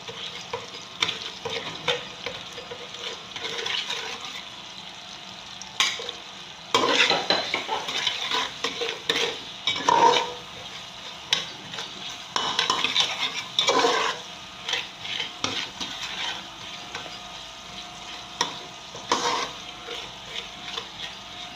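Onions and a seasoning cube frying in a pot for homemade jollof rice, a steady sizzle broken by repeated scraping stirs and occasional utensil knocks against the pot, close and fairly loud throughout.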